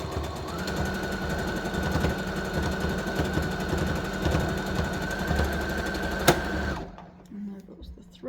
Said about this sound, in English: my sewing machine seems to be fine now. So I'm just gonna continue with the zigzag stitch